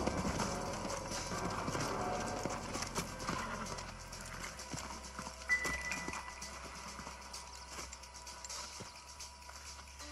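Horses' hooves clip-clopping in the video game Red Dead Redemption, a steady mid-distance trotting rhythm over ambient game sound that gradually eases and thins out, with a faint neigh.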